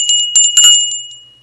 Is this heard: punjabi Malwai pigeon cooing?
no